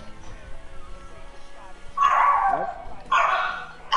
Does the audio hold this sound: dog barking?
yes